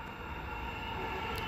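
A Butler service electric multiple unit train arrives at platform 2 at Joondalup station, its rolling rumble and faint wheel noise steady and somewhat distant.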